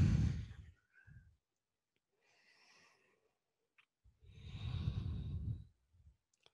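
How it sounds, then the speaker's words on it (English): Deep ujjayi breaths during a yoga resting pose: two long, audible exhales with a fainter breath between, close and steady with no talking. "Resting with deep ujjayi breathing."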